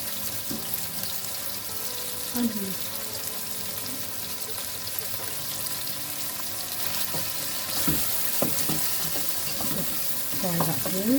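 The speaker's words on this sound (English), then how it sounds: "Fry that through for a few more seconds" Ginger and garlic frying in oil in a pan for a tomato salan, giving a continuous close sizzle with occasional scraping stirs and faint clinks, and no talking.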